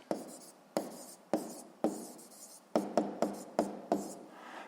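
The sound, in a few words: writing by hand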